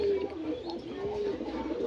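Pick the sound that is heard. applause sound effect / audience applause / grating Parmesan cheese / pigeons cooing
pigeons cooing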